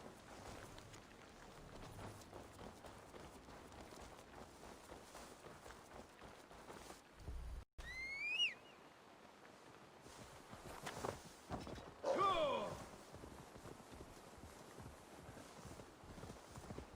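A horse's hooves clopping steadily in the game Assassin's Creed Valhalla, a soft rhythmic gait over wind and ambient noise, broken by a couple of brief louder swooping effects partway through.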